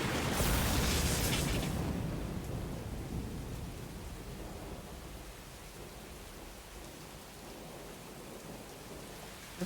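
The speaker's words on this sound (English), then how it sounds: "Thunder!" Thunder rolls through a rainstorm in the video game AI: The Somnium Files, a loud crack at the start fading into a long rumble over steady rain, with no voices.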